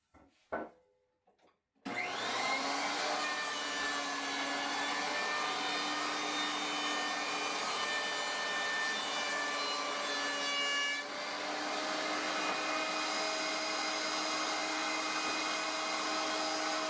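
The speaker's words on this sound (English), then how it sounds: "Get the glue ups out of clamps and get them to the planer." A planer feeds glued-up wood boards after a brief clatter, then roars loudly and steadily for about fifteen seconds with a high whine, the pitch shifting slightly near the end of the pass.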